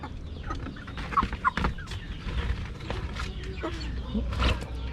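Several chickens cluck and murmur nearby in irregular bursts, with scratchy rustling and faint background noise throughout.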